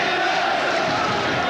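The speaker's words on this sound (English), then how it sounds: "Listen to that crowd." Crowd at a boxing match, Eamonn Loughran versus Lorenzo Smith, roars in a dense, loud, continuous wall of cheering and shouting with no break.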